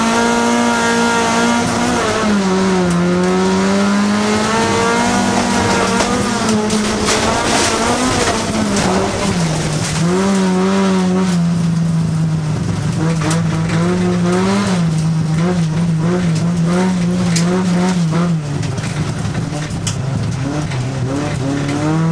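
Folkrace cars racing on a dirt track at the Folkracefestivalen in Motala, Sweden, with engines revving and rising and falling in pitch, and tires skidding and squealing, loud and steady throughout with no talk.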